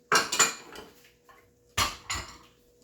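A utensil clatters and scrapes against a pan while cauliflower fried rice seasoned with soy sauce is mixed, in two separate bursts of metallic knocking and rattling with a quiet gap between them.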